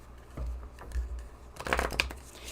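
Large new Moonology oracle cards are shuffled up close in a few soft riffling bursts with papery slaps and brief pauses between them, quiet and with no talking.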